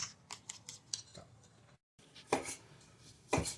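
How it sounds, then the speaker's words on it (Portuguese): A knife chops bacon into cubes on a board, with close, sharp cuts: a quick run of light taps, a brief gap, then two heavier chops, with no talk. "Então agora a gente corta o bacon."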